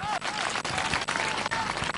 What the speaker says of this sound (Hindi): अरे तालियां तो जोर से बजाया करो।